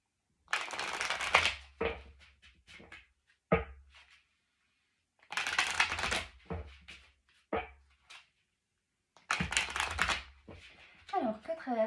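Tarot cards are shuffled by hand during a monthly reading, in three separate rustling, riffling bursts with quiet gaps between them; a voice is briefly heard near the end.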